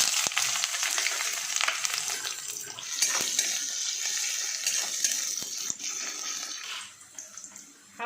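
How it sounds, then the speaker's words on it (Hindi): Bay leaves, whole cumin and chopped onion fry in cooking oil in a kadai, a steady hissing sizzle close by that eases slightly toward the end, with no speech. "कढ़ाई में कुकिंग ऑयल डालने के बाद 2 तेज़पत्ता, हाफ चम्मच साबुत जीरा, 1 चॉप्ड किया हुआ ऑनियन,"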